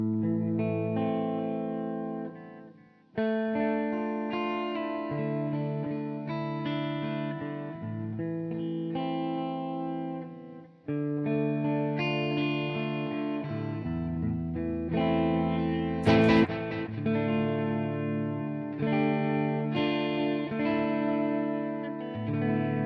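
Distorted electric guitar runs through a synced delay effect in the Nembrini Range 120 amplifier app on iOS, playing riffs and held chords whose echoes smear and repeat behind each note, loud and close with no voices.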